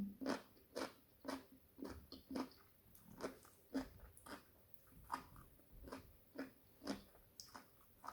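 Sour mango eaten with shrimp paste: a series of wet, crunchy bites and chewing at close range, repeating roughly every half second with small pauses, quiet and without talk.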